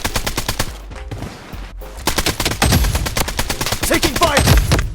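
Rapid automatic gunfire in the shooter game Blood Strike fires in dense bursts of sharp cracks, with a brief pause partway through before heavy, close shooting resumes and keeps going to the end.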